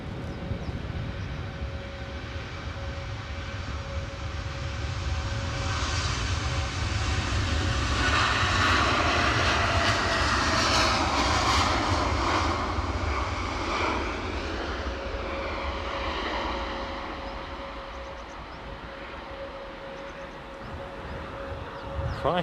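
An airliner takes off at Edinburgh airport, its engines a loud, steady broadband roar that swells to a peak midway and then slowly eases as the aircraft climbs away, with no talk over it.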